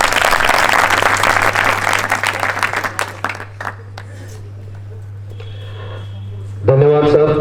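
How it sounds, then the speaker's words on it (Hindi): Loud audience applause at a Republic Day celebration at a defence academy, dense clapping fading after about three seconds into quieter room noise, then a burst of voices and sound near the end. "जोरदार तालियों के साथ"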